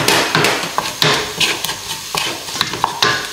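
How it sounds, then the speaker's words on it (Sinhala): Dried fish with chili powder fries in hot oil, crackling and sizzling steadily while a utensil stirs and scrapes the pan in irregular bursts, close and fairly loud. "පොඩ්ඩක් මෙහෙම මේකේ බැදෙන්න ආරම්භ කරනවා."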